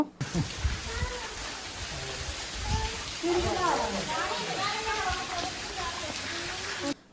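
Steady rain hisses across the whole stretch while people talk over it at a temple in Thotapalli, with a few louder knocks near the start.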